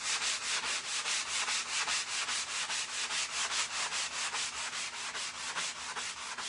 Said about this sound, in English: this sanding block doesn't have much left to it.